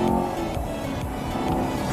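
A car exhaust burbles during a hard pull, a loud, close, rumbling pop and crackle with a rhythmic pulsing roughness throughout the two seconds.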